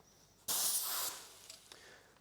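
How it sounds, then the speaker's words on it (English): An airless paint sprayer sprays a wall in a loud, sharp hissing burst that starts abruptly, holds for about half a second, then fades into a softer hiss with a couple of faint clicks. "So next thing, we're going to spray over again."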